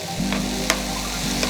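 Bulgur wheat and spices sizzle steadily in oil in a pan on the stove, with a few short scraping stirs over a constant frying hiss.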